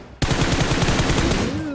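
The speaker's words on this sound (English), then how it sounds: "we can hear some gunshots" Rapid automatic gunfire in the mobile battle royale game PUBG Mobile, a loud, dense burst of shots that starts abruptly and continues without pause, with a rising whine at the end.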